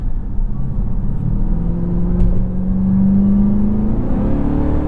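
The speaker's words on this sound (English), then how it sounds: "you still hear that exhaust and hear that supercharger whine" A 2025 Dodge Durango SRT Hellcat's exhaust drones low and steady while a thin supercharger whine rises in pitch as it gently accelerates.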